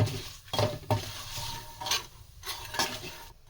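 Coriander and cumin powder spices cooking in a pan for chana paneer, a low sizzle punctuated by several clear spatula scrapes against the pan, near and alone.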